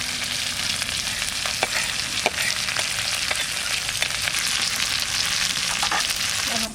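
Garlic, onion, green chili and crab brain fry in hot oil with a dense, steady sizzle, punctuated by small crackles and the scrape of stirring, close and without talk.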